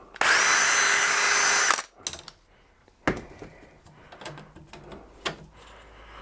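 A power drill whines loudly for about two seconds while elongating a hole in a wiper linkage, then falls silent and is followed by clattering metal handling noises and scattered knocks.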